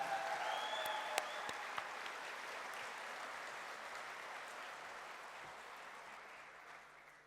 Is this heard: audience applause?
yes